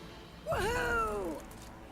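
A cat character in the video game Skylanders Imaginators gives a single clear meow with a rising then falling pitch, lasting about a second over quiet game background.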